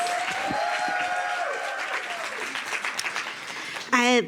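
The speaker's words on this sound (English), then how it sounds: "Round of applause for Allie and Devin" Comedy club audience applauding for a stand-up set, a steady close wash of clapping with a voice talking over it at the start, fading out before a brief loud burst near the end.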